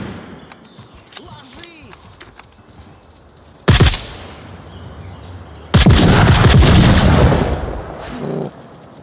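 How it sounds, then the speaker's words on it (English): A grenade goes off in the VR shooter Onward, a sudden loud blast that cuts through quiet ambience, followed by a second, longer roaring burst of explosion and debris. "Did they just grenade themselves?"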